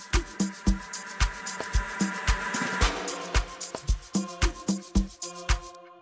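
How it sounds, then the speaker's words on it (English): A Korg M1 vox synth patch played in octaves, with short rhythmic chord stabs repeating steadily in a simple pattern, loud and alone with no talk. "And this sound was OA from Korg M1."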